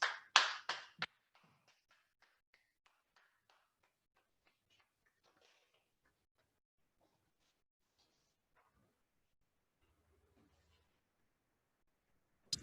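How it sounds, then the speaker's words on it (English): Hand clapping during a virtual alumni homecoming celebration: a short flurry of close, crisp claps at the start, then a few faint ticks and near silence, ending with one more sharp click. "I want you to put your hands together with mine for Professor Pretorius."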